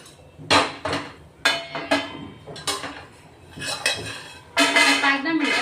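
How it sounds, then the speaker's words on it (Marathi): Ingredients for ladoo being dry-roasted in a pan, with a spoon repeatedly scraping and clinking against the metal in uneven bursts, close and fairly loud, ending in a longer stretch of busy stirring. "तर असं मस्त भाजून घेणार आहेत आपण."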